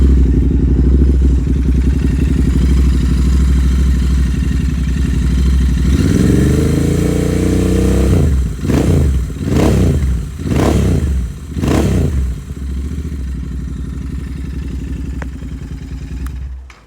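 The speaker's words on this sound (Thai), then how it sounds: "มาฟังเสียงเครื่องกัน" A 2020 Royal Enfield Interceptor 650 engine runs steadily at idle, rumbling low and close, with a few sharp revs blipping up and settling back down before returning to a steady idle.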